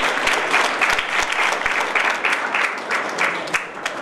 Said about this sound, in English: So we should give a big round of applause to all those teachers who are present here.